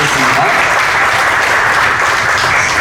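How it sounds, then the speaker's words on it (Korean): Sustained, loud applause from a church congregation at Pilgrim Mission Church, thanking the conference staff and volunteers; dense, even clapping fills the whole stretch without a break. "우리 감사의 마음 남아 우리 박수 한번"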